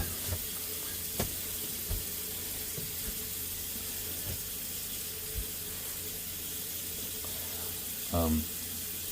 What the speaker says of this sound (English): I'm going over to the sink here, and I'm just covering it with enough cold water